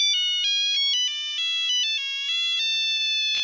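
A mobile phone plays a Nokia-style ringtone, a loud, close electronic melody of rapid stepped notes that continues unbroken until a sharp click cuts it off at the end.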